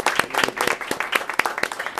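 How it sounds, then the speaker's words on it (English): A small audience at a North Miami junior council meeting claps for a newly seated council member, with individual handclaps standing out in an uneven patter over about two seconds. "So let's give her a round of applause."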